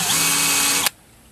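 A power drill bores starter holes into a ripped piece of wood for a jig, a steady high whine running loud for under a second before cutting off abruptly into near silence.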